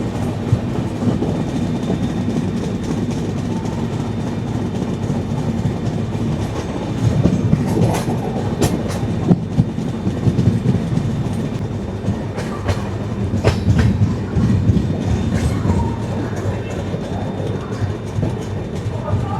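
A Chennai–Mumbai LTT superfast express train, number 12164, running at about 130 km/h, heard from on board as a steady loud rumble with rhythmic clickety-clack of wheels over rail joints throughout.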